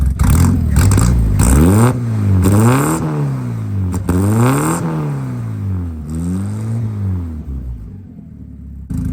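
Engine of a 1981 Dodge Challenger revving repeatedly in rising and falling sweeps, loud and close, with a steady rumbling idle underneath and no talking.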